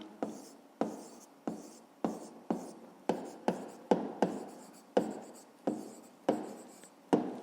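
Pen strokes writing an answer in a school maths notebook, a steady run of short scratchy strokes with brief pauses between words, close and fairly quiet.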